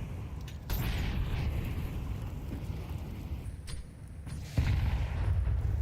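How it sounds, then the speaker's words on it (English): HE grenades detonate in a professional Counter-Strike match at IEM Katowice 2025, G2 against Virtus.pro: two heavy, booming blasts about four seconds apart over a dense, rumbling backdrop of in-game gunfire and mechanical noise. "Malbs has been hit by 3 HE grenades in this round"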